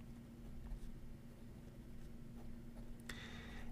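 Majohn A1 fountain pen with an extra fine nib writing on paper, a very faint, close scratching and scraping with small strokes and a slightly louder rustle near the end, no voices.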